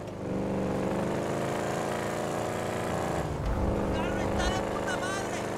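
A powerful 140 cubic inch motorcycle in GTA 5 roars steadily throughout with a constant droning engine note and a brief surge midway, while people talk over it.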